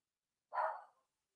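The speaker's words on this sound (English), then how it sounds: "If you ever want to hear Clyde bark with the brrr." One short dog bark, alone and fairly close, in an otherwise quiet room.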